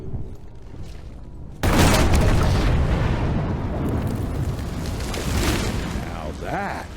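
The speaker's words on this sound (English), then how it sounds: "Now that is how you shape an explosion." A heavy explosion in the video game Evil West bursts in suddenly after a quieter stretch, then a long loud rumbling roar trails off with further blasts and debris.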